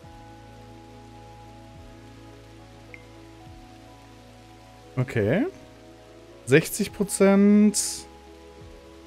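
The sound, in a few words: rain from a rain cloud in the video game The Universim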